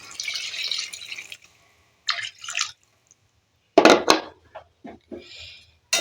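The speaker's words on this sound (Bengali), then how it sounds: "টমেটো পুরো গলা গলা হয়ে গেছে আমি এই মশলার মধ্যে জল দিয়ে দিলাম" Water is poured from a container into a simmering tomato and spice mixture in a pan, giving a few close splashing pours and drips separated by brief quiet gaps.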